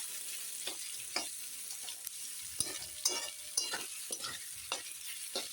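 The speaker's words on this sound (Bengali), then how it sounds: "এখন একটু নেড়ে দিই এটা হাই হিটেই ভাজতে হবে" Sliced onions fry in oil on high heat for biryani, a constant sizzle broken by regular scraping strokes of the spatula, close and with no talk.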